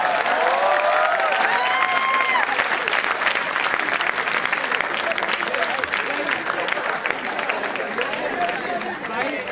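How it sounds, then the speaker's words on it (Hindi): Audience applause fills a Hindi-Urdu poetry gathering (kavi sammelan), a dense, steady wash of clapping lasting throughout, with a brief voice rising above it early on. "एक बार ताली हो जाए।"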